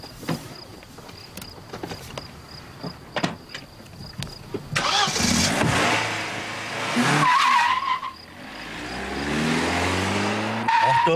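A car speeds away and skids around a speed trap, with the engine revving hard and loud tyre squeals rising over the running motor.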